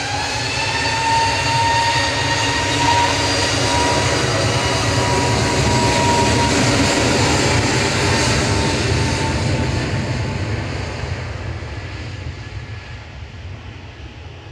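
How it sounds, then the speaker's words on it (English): An EasyJet airliner departs Manchester Airport for Alicante, a loud sustained jet engine roar with steady whining tones that slowly fades toward the end. "EasyJet going next, heading to Alicante, GUZLM with flight 2013."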